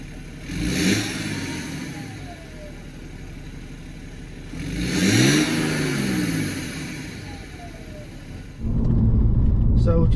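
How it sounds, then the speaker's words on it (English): BMW E91 330d diesel estate with a stage 1 remap starts up and drives off, the engine rising and falling through two revving pulls before a steadier loud rumble settles in near the car. "So we'll just start the car, go for a little drive and see what it's like."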